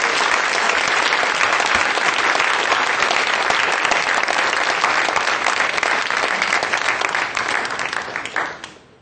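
A large audience applauds supportively at a gathering, a dense, steady roar of clapping that holds loud for several seconds before tapering off at the end.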